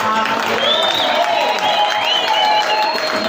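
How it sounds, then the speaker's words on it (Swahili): A church congregation fills the room with steady, dense applause while high warbling ululations rise and fall above the clapping throughout. "Pigie tena Yesu makofi na vigelegele."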